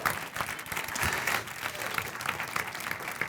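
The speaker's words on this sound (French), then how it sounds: "On peut leur donner une bonne main d'applaudissement, s'il vous plaît." Spectators at an improv match give a warm, steady round of applause that stays fairly even from start to finish, with a bit of cheering mixed into the clapping.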